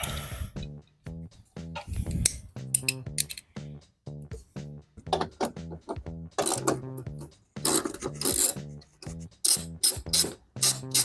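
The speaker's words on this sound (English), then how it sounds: "When you undo the last bolt on the bottom, the headlight will just pop out." A ratchet wrench undoing bolts to remove a car headlight during a nudge bar install, rapid bursts of clicking ratchet strokes in uneven runs with short pauses, close and loud.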